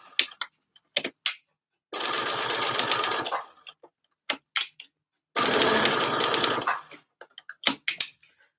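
A sewing machine stitches dress seams in two fast, even bursts of whirring, close and clear, separated by light clicks and handling taps.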